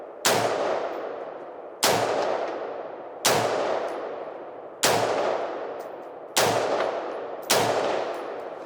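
Six loud M4 rifle gunshots fire one at a time at close range, about a second and a half apart, each ringing out with a long echoing tail.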